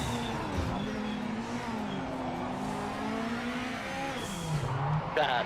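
Race car in the Project Motor Racing video game, its engine note sliding down and holding under hard braking, then dipping and recovering, with a continuous close mechanical drone and some tire noise.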